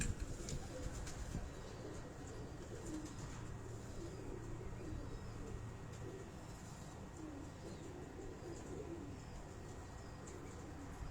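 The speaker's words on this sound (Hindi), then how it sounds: "अब ये कबूतर जितने भी आप देख रहे हैं" Breeder pigeons cooing in a loft, a steady low murmur of soft coos with a continuous background hum and no one speaking.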